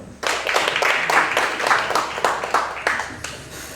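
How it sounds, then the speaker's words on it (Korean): Congregation at a Korean church ordination service claps in rhythmic, fairly close unison, welcoming speakers to the front, with a steady pulse of hand claps that softens toward the end. "우리 박수로 환영하겠습니다."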